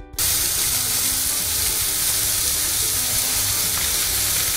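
Bacon and a hamburger patty frying in a pan give off a loud, steady, crackling sizzle that starts abruptly and holds without pause, with no talking.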